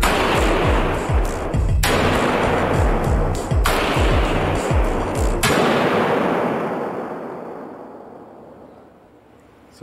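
Gunfire strikes a steel armored vehicle, heavy rapid bursts of shots hammering in three long volleys that echo and fade into a decaying rumble, loud and close with no talk.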